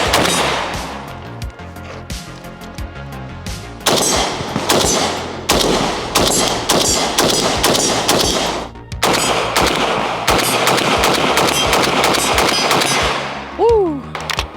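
A rifle on a T2 mount fires a rapid run of loud, sharp reports at an outdoor range, the shots coming in quick bursts with brief pauses and a short metallic ring near the end.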